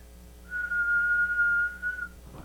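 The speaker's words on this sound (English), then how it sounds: "If I whistle into the mic," A single sustained whistled tone, steady in pitch and close up, holds for about a second and a half before stopping, with no talking.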